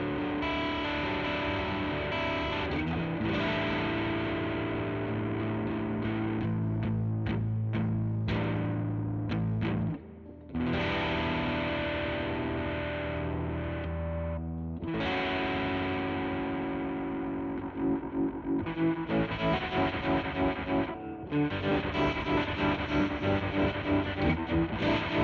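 Electric guitar driven through a Sensation fuzz drive into a SurfyTrem Deluxe stereo tremolo pedal, playing loud, gritty distorted chords and riffs with a brief gap midway, and a pulsing tremolo chop audible toward the end.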